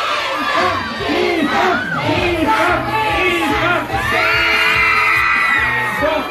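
A large, loud crowd at a live kiss-cam event shouts the word "pista" together in repeated, rhythmic, close-sounding yells and whoops.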